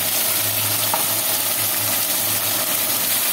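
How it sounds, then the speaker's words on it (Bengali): Potatoes and onions sizzle steadily in hot oil, a constant bright crackling hiss with a low hum underneath, close and even. "তেলটার মধ্যে আলুটা নামিয়ে দিয়েছি"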